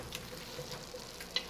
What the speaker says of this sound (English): Now I'm just stirring this in.